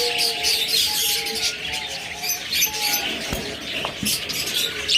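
Gray cockatiels and other pet birds chirp in a bird shop, a busy chorus of overlapping tweets and calls filling the room, with a couple of sharp clicks.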